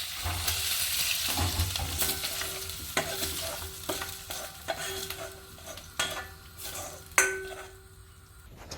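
Pieces of tuna sizzle and crackle in a hot frying pan for a Mauritian fish vindaye, broken up by repeated scraping and clinks of a utensil against the pan, close and busy.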